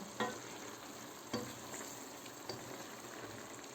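Leek kavurma cooking down in a pan until its water evaporates, a soft continuous sizzle and bubbling broken by a few light spoon stirs and scrapes, fairly quiet with no talk.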